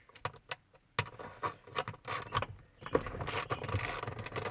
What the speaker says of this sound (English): These are actually the only two bolts you got to remove. I'm going to remove these real quick.